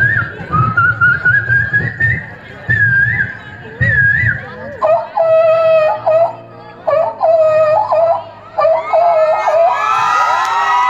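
A performer's voice imitates the rising, repeated call of an Asian koel during a live mimicry act, loud and whistle-like, with crowd noise around it and siren-like imitations following.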